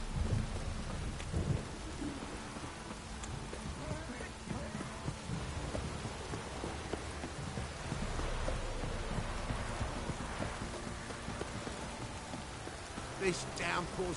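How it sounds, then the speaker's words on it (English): Heavy downpour and rolling thunder from The Witcher 3: Wild Hunt, a steady dense roar of rain with low rumbles throughout, a few brighter cracks near the end, and faint background voices mixed in. "This downpour's a bastard,"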